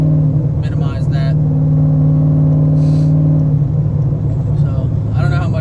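Very loud car on a morning cruise, its engine rumbling with a deep steady drone and shifting pitch under someone talking over it intermittently.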